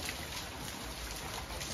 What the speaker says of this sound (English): But it's pouring with rain and the drains are blocked.